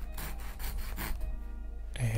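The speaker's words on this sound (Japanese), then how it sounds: "浅めにノコギリを入れます。" A hand saw makes a shallow cut into a small square wooden block being carved, giving soft, quiet rasping strokes in a steady back-and-forth rhythm, close by and heard alone.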